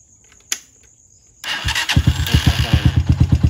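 A motorcycle's starter is pressed and the engine cranks and catches, a small click followed by a loud close rhythmic chugging that settles into a pulsing run; the bike has a starter fault where the light flickers and it tends to die.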